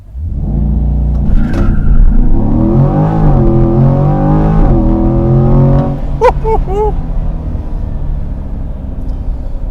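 A 2020 Chevrolet C8 Corvette on launch control holds a loud, steady high-rev engine drone, then surges hard as it accelerates away with rising harmonics, followed by a brief tire chirp and squeal as the rear wheels break traction.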